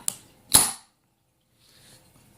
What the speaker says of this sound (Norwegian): Nå skal vi skyte et tørrskudd med en tomhylse her.